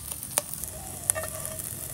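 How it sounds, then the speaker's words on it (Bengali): Chicken pieces frying in a little soybean oil in a frying pan give a soft, steady sizzle with a few sharp crackles and pops, heard close and alone. "এখন মুরার গোস্ত ভাজতে হইবে।"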